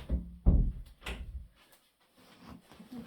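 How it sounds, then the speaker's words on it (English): An indoor door is pushed shut with a solid thump, followed by a second knock and some brief rattling and handling noises close by. "Right, let me shut the door."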